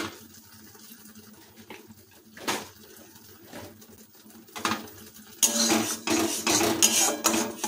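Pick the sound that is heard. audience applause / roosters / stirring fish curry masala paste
stirring fish curry masala paste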